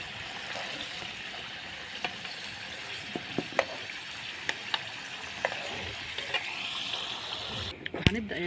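Chicken liver frying in a pan, a soft steady sizzle with scattered sharp pops and clicks, a person talking over it and a louder clatter at the end.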